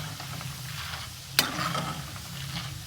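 Peanuts frying in a pan of oil with a continuous soft sizzle, one sharp clack of a spoon or pan partway through, then stirring rustle, close and steady with no voices.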